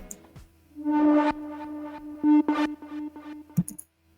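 Dark liquid drum and bass synth with distortion, delay, compression and reverb: a sustained harmonic tone swelling in loud bursts around a steady low pitch, punctuated by sharp clicks and short stabs, with no voices.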